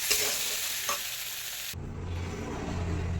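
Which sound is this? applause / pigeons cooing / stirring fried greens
stirring fried greens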